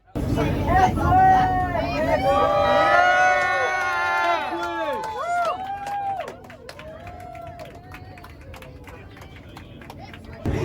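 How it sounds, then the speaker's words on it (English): A crowd on the platform gives a big cheer as an EMU train pulls into Ipswich Station, loud voices and whoops swelling over the first few seconds, then fading to lighter chatter and hubbub. "we had a big cheer as we arrived into Ipswich Station"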